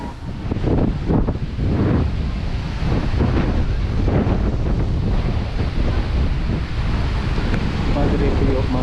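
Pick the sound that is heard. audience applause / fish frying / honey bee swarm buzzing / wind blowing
wind blowing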